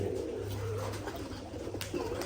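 Pigeons at a pigeon farm coo steadily in low, rolling murmurs, close by and continuous, with overlapping calls and faint background rustle.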